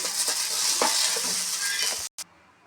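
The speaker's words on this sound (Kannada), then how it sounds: "ಈಗ ಇದು ಹಸಿಮೆಣ್ಸಿಕಾಯಿ ಫ್ರೈ ಆಗಿದೆ ಇದನ್ನು ತೆಗಿತಾ ಇದ್ದೀನಿ" Green chillies frying in hot oil in a pan, a loud steady sizzle with faint stirring scrapes that cuts out abruptly near the end, followed by a quieter sizzle.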